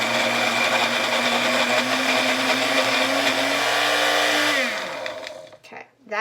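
A blender purees baby food thinned with breast milk, its motor whirring loud and steady before it slows and winds down near the end.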